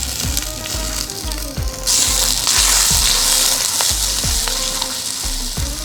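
Onions, chillies, curry leaves and tomato frying in a pan for an Erode-style country chicken pepper dish: loud close sizzling with rhythmic spoon scrapes and clanks, the hiss swelling sharply partway through as tomato goes in.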